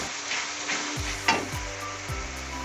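Stir-frying with black sauce and spring onions in a pan, a loud continuous sizzle broken by a few clanging tosses of the pan and spatula, with no talking.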